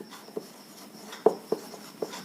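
Chalk or a marker taps and scratches across a board in short, separate strokes during a physics lesson, quiet and close, with a faint hum behind it and no talking.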